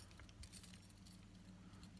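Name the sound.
metal dungaree clasps clinking as handled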